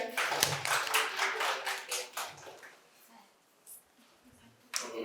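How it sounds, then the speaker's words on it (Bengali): Brief scattered clapping from an audience at a quiz prize-giving in a medical college hall, loudest at the start and fading out, then one more short burst at the end. "ম্যাডামের জন্য একটা জোরে হাততালি হয়ে যাক।"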